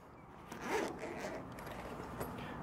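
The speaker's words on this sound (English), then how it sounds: "Nice zipper of the pouch." A zipper on the small carry pouch of a Pulsar Core FXQ38 thermal imaging device is drawn open in one continuous, close, scratchy run lasting a couple of seconds, with no talking.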